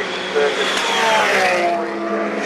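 Onboard a GT race car lapping the Phillip Island Grand Prix circuit in a 2012 Shannons National round, the engine roars loudly and continuously, rising and falling in pitch as it accelerates.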